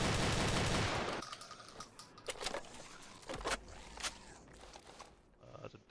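Automatic shotgun in the video game Resurrection of Dawn 3.0, firing a loud blast followed by several sharp shots at uneven intervals, with clicks and handling noises between them.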